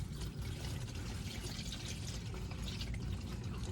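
Engine oil drains from a 2022 Toyota Tacoma V6 into a catch pan, a steady continuous pouring stream with a full, low splashing rumble and no talking.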